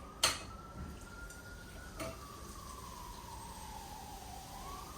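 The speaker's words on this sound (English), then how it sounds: "I apologize for the loud, noisy New York Friday night ASMR, ambulance, police, people screaming noises" On a noisy Friday night in New York, a distant siren wails in a slow, falling tone, and a few sharp clicks and knocks sound nearby, with no talking.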